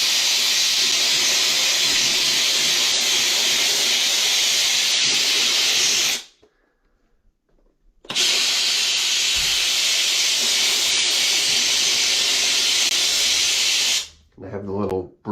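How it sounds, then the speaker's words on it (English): A handheld pressurized steam cleaner hisses loudly and steadily for several seconds, cuts out briefly, then resumes its harsh continuous jet before stopping again near the end; close and alone. "definitely don't want to be near this steam because it's very hot"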